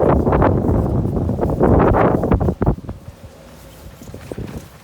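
Strong wind buffets the microphone outdoors beside a truck camper with loud, gusty low rumbles for the first half, then drops to a lighter, more distant rustle.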